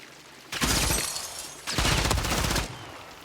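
Automatic gunfire in the video game Modern Warfare 3 comes as two loud, dense bursts of rapid shots, each lasting about a second, separated by a short pause.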